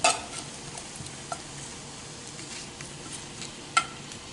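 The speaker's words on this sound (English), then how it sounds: "I'm going to leave those shrimp to kind of cook up for a little bit. They're on a medium-high heat" Shrimp fry in a pan over medium-high heat, a soft continuous sizzle with occasional faint clicks and a couple of light utensil taps, close but quiet, no one talking.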